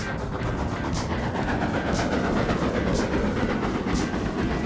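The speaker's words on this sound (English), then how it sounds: "we catch up with a southbound train preparing to arrive at Loughborough Central" A southbound train on the Great Central Railway near Loughborough Central, heard as a steady, close rumble with regular rhythmic clatter of wheels over rail joints, continuous and without voices.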